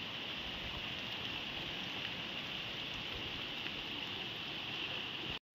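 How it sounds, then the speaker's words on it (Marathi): Sudden rain pours down in a steady, even hiss of drops hitting surfaces outdoors, unbroken for several seconds before cutting off abruptly. "बघा पाऊस येतोय"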